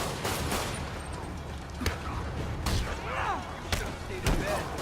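Rockets fired during combat in the Spider-Man PS4 game: a dense, loud run of sharp bangs and blasts, with whistling, swooping tones weaving between the impacts.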